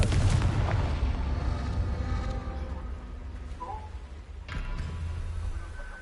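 Confringo fire-blast spells from a Harry Potter video game on PS5 go off as booming bursts, a loud blast at the start and another a few seconds later, with game sounds between.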